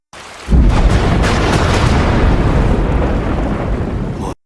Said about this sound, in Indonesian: Tiba-tiba ada petir besar menyambar